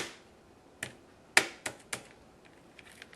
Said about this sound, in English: Okay, and then start typing.